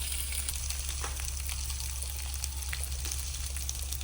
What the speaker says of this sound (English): We're going to cook our spam